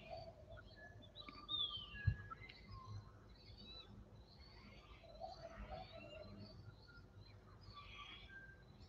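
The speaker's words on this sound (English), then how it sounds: "The birds in the background, I'm glad you're picking up on some of that, because it is really nice." Birds singing in a home garden, a scatter of faint, distant chirps and short whistled calls over quiet background ambience.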